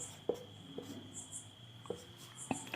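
Chalk or marker writing fractions on a board during a Class 8 maths lesson, heard as a few faint, separate tapping and scratching strokes against a quiet background.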